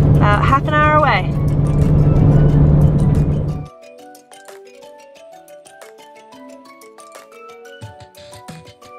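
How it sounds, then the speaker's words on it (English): A truck's exhaust brake engages on the drive to Lake Holloman, New Mexico. A loud, steady engine roar with a droning tone lasts about four seconds, then cuts off abruptly and leaves a quiet cabin with faint chiming tones. "You love exhaust brake, don't you? Yes, it saves brakes. It's loud, but they save brakes."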